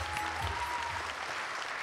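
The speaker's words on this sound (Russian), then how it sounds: "Аплодисменты редакторам Лиги." Audience applause at a KVN junior league gala concert in Ufa, a steady dense clapping that fills the short moment without speech.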